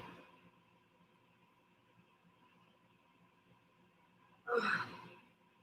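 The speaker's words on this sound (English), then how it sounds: "The yawns have begun." A woman yawns once near the end, a loud breathy exhale rising out of a quiet room after several seconds of low background hum.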